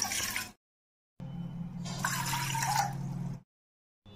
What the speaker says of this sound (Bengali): 2 কাপ জল দিয়ে দিচ্ছি।